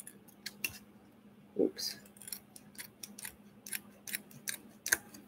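Scissors snip through paper while a shaker card is trimmed, in a quiet room; the cuts come as a quick run of short, crisp snips, and one brief spoken word is heard.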